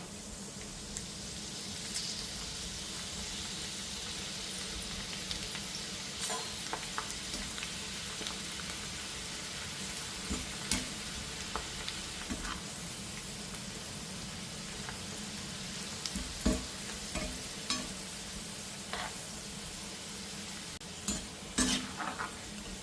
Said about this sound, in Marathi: तेल तापलेलं आहे थोडा थोडा कांदा घालून असं तळून घेऊया